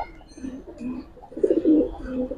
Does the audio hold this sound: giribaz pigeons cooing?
yes